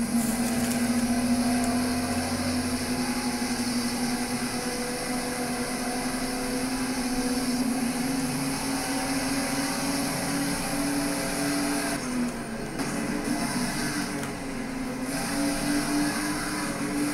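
NASCAR Cup Series race cars at the Bojangles 500 roar steadily in an onboard view, a loud sustained engine drone with shifting pitch and brief dips as the pack surges, no talking.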